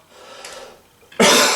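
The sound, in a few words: cough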